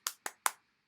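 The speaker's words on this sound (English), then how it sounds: "Let's clap for the world needs more purple people." Children clap after a storytime reading of The World Needs More Purple People: three quick, crisp hand claps, close by and evenly spaced, then silence.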